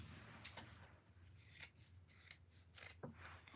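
Scissors snipping through fabric kitchen towels, a few quiet close crisp cuts and rasping slides spaced irregularly across a few seconds, with no talking.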